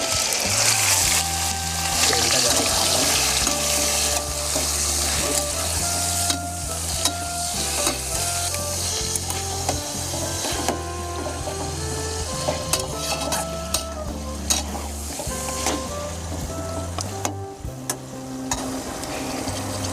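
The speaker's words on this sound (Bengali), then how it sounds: "চিকেনটাকে কষিয়ে নিচ্ছি।" Marinated chicken frying and being stirred with onions in a wok for a chicken dum biryani, giving a loud, continuous sizzle with constant scraping and stirring clatter throughout.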